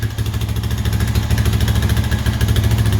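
An ATV engine runs steadily just after a cold start, a close, continuous mechanical drone with a rapid idle pulse and no voices over it.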